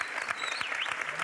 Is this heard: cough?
no